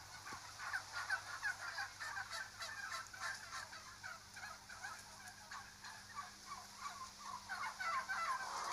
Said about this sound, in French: Ces dindes ne ressemblent plus guère à celles qui vivaient autrefois en liberté en Amérique centrale.